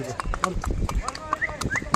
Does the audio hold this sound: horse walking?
yes